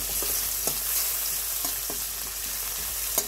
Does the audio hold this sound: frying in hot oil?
yes